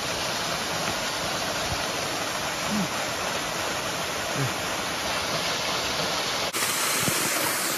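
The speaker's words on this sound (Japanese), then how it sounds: "ウグイスの滝到着" Constant broadband rushing of Uguisu Falls on Kasuga Okuyama, Nara, loud and unbroken, with faint voices murmuring beneath the roar.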